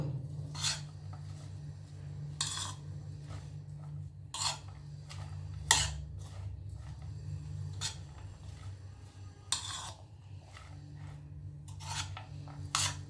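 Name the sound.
mixing vegetables and eggs with Maggi noodles in a pan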